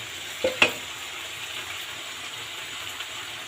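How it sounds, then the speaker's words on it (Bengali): Crabs going into boiling gravy, giving a steady low sizzle and bubbling with two quick clatters of stirring near the start, then quieter simmering. "এই যে ঝোলটা ফুটে গেছে, এখন আমি এতে দিয়ে নিলাম কাঁকড়াগুলো।"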